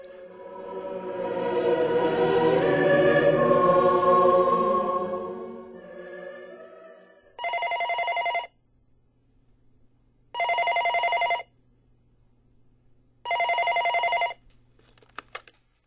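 A telephone ringing in three evenly spaced bursts, each a clear electronic trill about a second long, following a swelling musical passage and separated by near silence.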